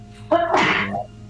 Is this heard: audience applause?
no